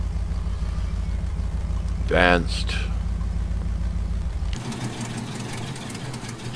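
A heavy truck engine idles in the Spintires Mudrunner off-road driving game with a steady low rumble. A short chirping effect comes partway through, and the engine then cuts out. A voice speaks briefly over it.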